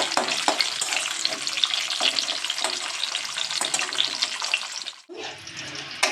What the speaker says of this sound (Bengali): এটাও একটু আমি ভালো করে ভাজবো।